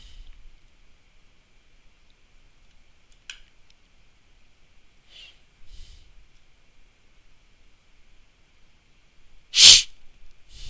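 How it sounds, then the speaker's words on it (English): A single sharp, close sniffle bursts out near the end of a mostly quiet indoor stretch, with only faint rustles and breaths before it. "Apologies for that sniffle."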